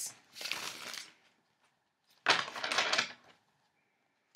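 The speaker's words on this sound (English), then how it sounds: "the shuffle is airier. It's fluffier, if that makes sense." Two bursts of cards being shuffled, a soft riffling flutter, then a brisker second riffle after a pause, close and quiet with no talking.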